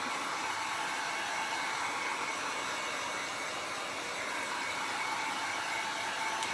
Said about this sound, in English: Just use a hair dryer if you need to speed it up